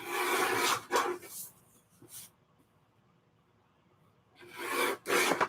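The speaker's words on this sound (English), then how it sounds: "All right, let's trim them down." Craft papers being trimmed for an art journal, with a few bursts of rasping, rubbing cuts near the start and again at the end, separated by a long quiet gap, all close and fairly loud.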